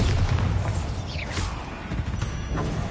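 Bombarda blasting spell detonating in Hogwarts Legacy, a loud booming explosion with crackling debris and a rising magical whoosh, sustained over a dense game soundscape.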